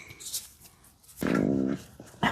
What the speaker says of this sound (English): Your stomach is growling.